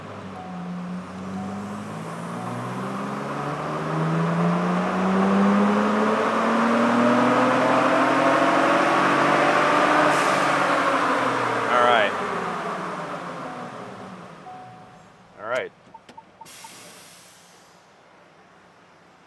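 A 2022 Ford Bronco Raptor's twin-turbo engine pulls hard in fifth gear on an AWD dyno, its loud drone rising steadily for about ten seconds before lifting off, with a turbo whoosh and short hissing bursts afterward.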